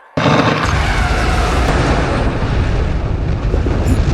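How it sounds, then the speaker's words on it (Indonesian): Magic explosion and fireworks in an anime, bursting in suddenly as a loud, sustained crackling roar of blasts and pops that fills the whole moment without letting up. "Nih, petasan and ledakan."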